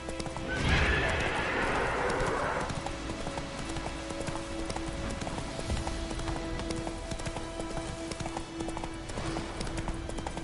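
Roach the horse gallops in The Witcher 3 with a quick rhythmic clip-clop of hooves and a loud neigh near the start, over a steady rain-like background wash and a low sustained musical tone.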